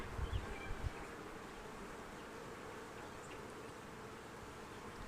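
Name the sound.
honeybees buzzing at hive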